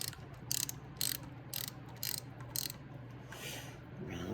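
A Jeep 5.2 V8 water pump is turned by hand, giving a regular series of six short ratcheting clicks about half a second apart, quiet and close, followed by a soft rubbing swish.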